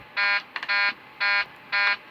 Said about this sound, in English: Because you have to do alarm checks to not get the takeoff configuration warning.